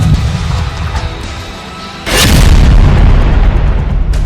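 Explosives set off to destroy tunnels in Gaza give a single loud, heavy boom that starts abruptly and then rumbles on, with no voices.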